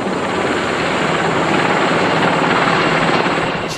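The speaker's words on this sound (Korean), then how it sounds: "진동이 심한 헬리콥터에서는 어느 정도 정밀한 사격이 가능할까?" A Lynx military helicopter in flight produces a loud, continuous roar of rotor and engine noise that stays steady and close for the whole stretch.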